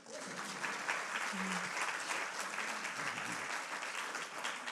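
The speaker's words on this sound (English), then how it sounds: "go ahead. You can applaud." Audience at a talk on American democracy applauding for the speaker's wife: steady, sustained clapping from a crowd, fairly faint and distant-sounding, with a brief low voice or murmur underneath.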